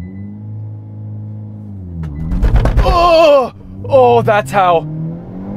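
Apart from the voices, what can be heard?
Hyundai Kona N launch control acceleration with wheel hop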